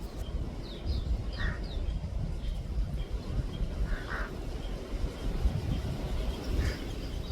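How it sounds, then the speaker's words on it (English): Several harsh caws ring out at a distance over steady low wind rumble, scattered calls in short bursts from pied crows mobbing a white-necked raven. "Crows will mob ravens,"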